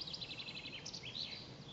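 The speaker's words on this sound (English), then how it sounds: "And a wren." A wren sings at Westbere Lake, a quick run of high trilling notes followed by brighter rising phrases, faint and somewhat distant over outdoor ambience.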